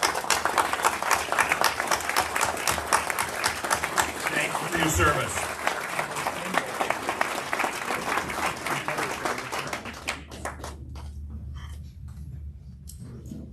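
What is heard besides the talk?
banquet audience applauding veterans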